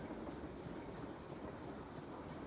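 Train in motion in the Nancy Drew game Last Train to Blue Moon Canyon, bound for Copper Gorge: a steady, full-band rumble of rolling rail cars with faint rhythmic clickety-clack of wheels over track joints, continuous and even throughout.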